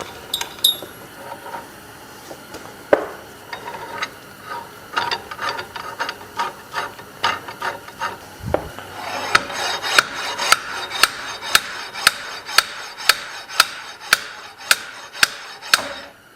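A slide hammer works a Dana Advantek chromoly rear axle shaft out of a Jeep Wrangler JLU, with scattered metallic knocks at first, then a steady series of sharp, evenly spaced clanking impacts.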